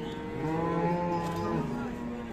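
A cow lowing at a rural cattle market selling Friesian cows with calves, one long, drawn-out moo with a wavering pitch, close and clear over faint background noise.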